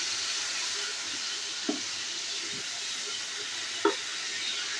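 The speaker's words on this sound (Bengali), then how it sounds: "দিয়ে সুন্দর করে মশলা সহ কষিয়ে নেব" Masala of chili powder and turmeric frying in oil for a tomato egg curry, a faint steady sizzle with two soft spoon clinks against the pan, close but quiet.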